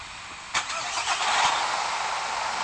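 An Arjun 555 tractor engine starts up in a video game, a sharp crank followed by a steady, fairly loud mid-pitched engine drone.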